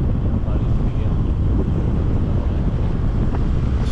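Steady wind blowing through the rainy hills of Chakrata, Uttarakhand, buffeting the microphone as a loud, constant roar throughout with no break.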